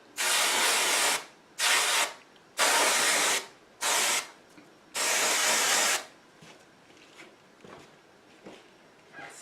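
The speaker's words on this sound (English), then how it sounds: "I'll spray the edges one more time." L'Oréal Magic Root Cover Up aerosol sprayed onto hair edges in five loud, close hissing bursts of uneven length, separated by brief pauses, then quiet rustling.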